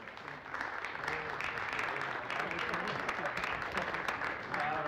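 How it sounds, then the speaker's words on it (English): Applause at a European team pool billiards final honoring runner-up Team Norway, steady moderate clapping from an arena crowd with a murmur of voices beneath, heard from a distance. "There's also a hand of applause for the runner-up Team Norway."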